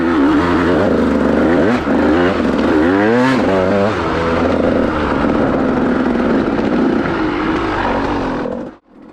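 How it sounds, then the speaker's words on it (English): A 200cc motorcycle accelerates hard on the throttle, its engine note climbing in loud, close rising sweeps before cutting off abruptly at the end. "So really getting hard on the gas brings this 200 alive."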